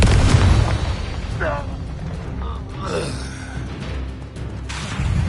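A Confringo fire spell blasts in Hogwarts Legacy, a low booming burst near the start followed by rumbling combat effects, with a voice talking over the action.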